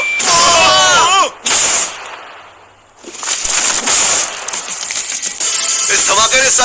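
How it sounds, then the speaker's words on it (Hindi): A safe is blown apart by a TNT charge. A loud, harsh blast with crackling debris breaks up high chirping and whistling sounds, then falls briefly quiet before a long roaring, rattling burst of noise. "इस धमाके ने सच में मुझे डरा दिया।"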